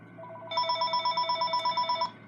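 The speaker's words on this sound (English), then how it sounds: "there's that pesky phone again" Telephone ringing during a knitting tutorial: a steady electronic ring with rapid repeated pulses, loud and near, lasting about a second and a half before stopping, with no talk over it.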